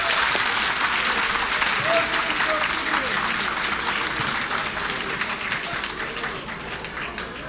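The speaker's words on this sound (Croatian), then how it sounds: "jedan gromoglasan aplauz se prolomi ovom dvoranom" A hall audience breaks into long, thunderous applause that holds steady and loud throughout, dense clapping from a large crowd with only a slight easing toward the end.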